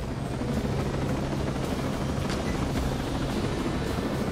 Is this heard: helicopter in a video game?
yes